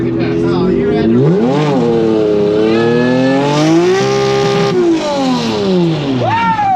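A car accelerates hard at close range, its engine revving loud and climbing steadily in pitch through the gears over several seconds while people shout excitedly nearby.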